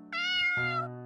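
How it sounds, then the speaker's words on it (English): A single synthesized cat meow from a meow button in a video game, clear and fairly loud, sustained for about a second with a slight pitch shift partway through, heard alone. "I have a meow button."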